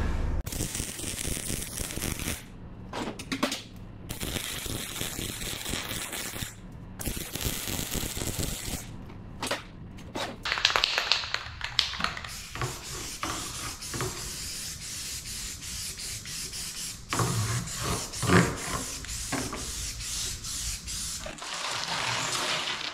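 Welding on a scrap steel workbench: a steady, crackling broadband hiss that runs for the whole stretch, with uneven sputtering bursts and brief gaps, fairly close and with no talking.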